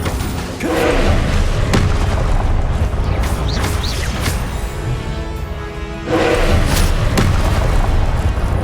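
Confringo fire-spell blasts in Hogwarts Legacy, fought against the Pensieve Guardian: loud booming explosions and thuds, one burst near the start, a dense run in the middle and another heavy blast late, over constant battle rumble.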